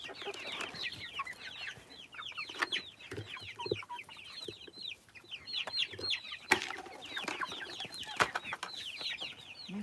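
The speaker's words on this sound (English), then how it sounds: "chickens do all kind of different stuff" Several chickens cluck and chatter nearby in an irregular stream of short calls, with occasional sharper squawks and knocks punctuating the quiet background.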